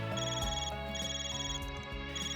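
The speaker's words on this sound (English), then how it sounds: "This phone call." A phone rings in The Legend of Heroes: Kai no Kiseki, a steady electronic ringtone melody with bright, repeating tones. It plays loud and alone over in-game background music, with no voices.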